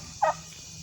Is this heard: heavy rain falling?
no